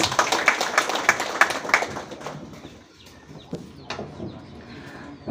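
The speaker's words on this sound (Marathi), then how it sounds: "तर सरांसाठी पण एकदा टाळ्या." An audience of farmers at a crop-disease advisory meeting claps for the arriving expert, a dense burst of applause that fades out after a few seconds.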